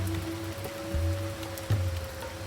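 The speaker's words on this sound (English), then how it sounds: "it just started raining again." Rain falling during a thunderstorm, a steady soft patter on surfaces with a low continuous hiss and a couple of faint low thumps.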